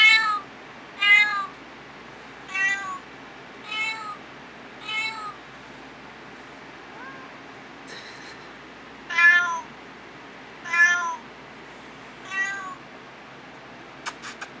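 A cat meows repeatedly, about nine clear, drawn-out cries spaced a second or two apart, close by in an otherwise quiet room.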